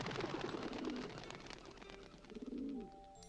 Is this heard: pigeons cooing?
yes